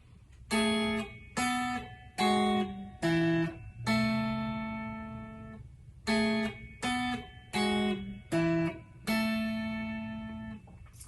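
Single clean guitar notes and paired intervals of sevenths and octaves ring out one after another with short gaps, some held longer, played alone and close.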